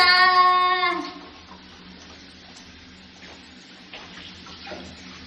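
Water pours and splashes steadily over a dog being bathed, after a brief tonal whine at the start, then keeps running at a softer level.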